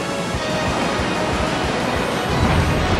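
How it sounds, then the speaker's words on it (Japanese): Rushing surf-like wash of water from a Surf attack in the Pokémon Stadium 2 video game, a steady broadband roar lasting throughout with low rumbling swells. "ここで波乗りだ。"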